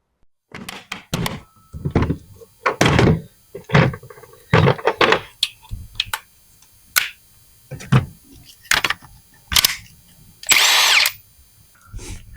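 Hand tools work at stubborn security lug nuts on a 1990 Mazda Miata, a normal socket slipping as it's used: a series of loud, close metallic clacks, thunks and ratcheting bursts in uneven rhythm, with short pauses between.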